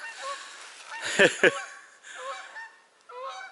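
Canada geese honk as a flock approaches outdoors, a pair of loud, close honks standing out among fainter overlapping calls, with no talking over them.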